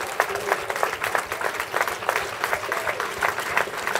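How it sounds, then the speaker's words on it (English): A comedy club audience applauds at the close of the show, dense and sustained clapping from many people with a few louder claps standing out. "give everyone a round of applause you've seen so far"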